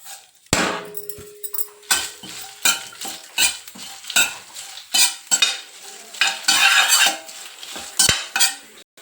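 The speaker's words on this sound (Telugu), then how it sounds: "విత్తనాలు కూడా వేసి విత్తనాలు తొందరగా వేగుతున్నాయి" Seeds dry-roasting in a pan for moringa leaf spice powder are stirred with repeated scraping strokes and rattles. The strokes come in a rough, regular rhythm over a faint sizzle, close and fairly loud, with no talking.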